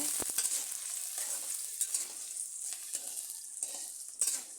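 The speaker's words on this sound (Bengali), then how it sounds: "কিছুক্ষণ বেজে পেঁয়াজ কুচি একটু লাল করে নিয়েছি" Chopped onions and green chillies fry in hot oil, a bright continuous sizzle with intermittent spatula scrapes and taps against the pan, close up and no one speaking.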